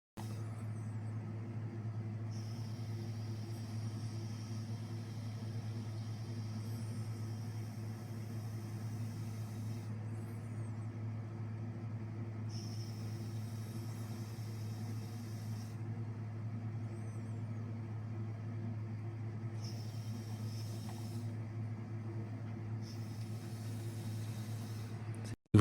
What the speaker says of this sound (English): Because the compressor started to work, right?